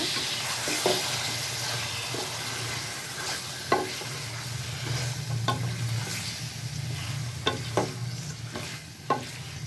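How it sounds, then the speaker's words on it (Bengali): Washed broiler chicken pieces for korma stirred in a hot pan, with a steady loud sizzle and occasional scraping clinks of the spoon against the pan, close up and without talk. "এখন দিয়ে দিব ধুয়ে রাখা মাংসটা। এখন এটাকে ভালোভাবে মিশিয়ে নিব।"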